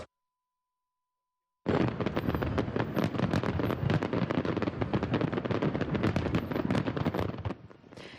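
After a stretch of silence, a dense, continuous barrage of fireworks bursts in, rapid crackling and booming explosions packed together loudly for several seconds before easing slightly.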